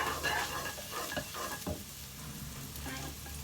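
Onions frying in a pan until soft for Shanghai eggplant with minced pork, a dense crackling sizzle with scraping stirs of a utensil, fairly close and continuous.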